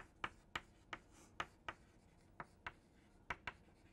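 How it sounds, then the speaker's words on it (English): A lecturer writes a journal reference on a board during a rocket propulsion lecture, making a series of about a dozen crisp, irregular taps and strokes, quiet and close, no talk. "I just write it down here"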